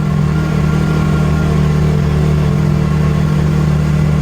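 Piaggio Ape City tuk-tuk engine straining uphill in first gear, a steady, loud mid-pitched drone held at partial throttle without pause, close to the listener.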